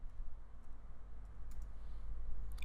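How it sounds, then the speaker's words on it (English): A few sparse, faint computer keyboard key clicks as a command is typed in a terminal, quiet and close, with a low hum underneath. "So let's type ping"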